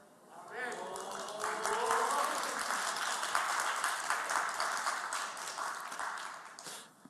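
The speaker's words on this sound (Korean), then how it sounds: "이게 박수 친다는 건 좋다는 뜻이죠." A congregation at a Friday evening church prayer service breaks into applause, the clapping swelling quickly, holding as a dense, moderately distant patter for several seconds, then tapering off; a voice is faintly mixed in.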